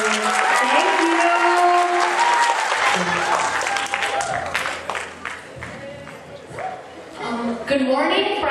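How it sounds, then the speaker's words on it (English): Audience applause at a school annual function, crowd clapping mixed with cheering voices and squeals, fairly loud, overlapping talk and excited shouting. "Everybody give her a big round of applause."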